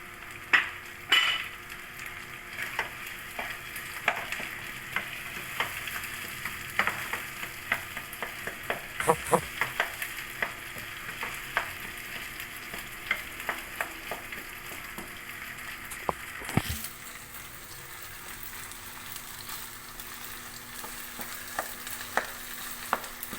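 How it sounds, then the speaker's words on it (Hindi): Steady sizzling of onions and mashed boiled potatoes frying in oil, with frequent scrapes and clinks of a spoon stirring in the pan, close and continuous. "थोड़ा सा इसको फ्राई करेंगे, थोड़ा सा, 1 मिनट।"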